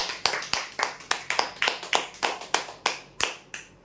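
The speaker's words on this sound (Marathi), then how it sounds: "जोरदार टाळ्या होत्या" Applause for a winner at a prize draw: a sparse, close run of single hand claps, roughly three per second, with no other sound.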